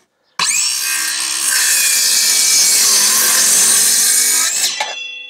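A power saw bites through a thick wooden beam, a loud continuous whine and rasp that starts abruptly, holds steady for about four seconds and then stops, with no talk over it.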